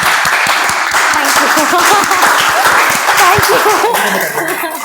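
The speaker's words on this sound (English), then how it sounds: "give her the biggest round of applause for being the president" An audience at a club meeting applauds its president with dense, steady clapping for the whole stretch, mixed with whoops and murmured voices.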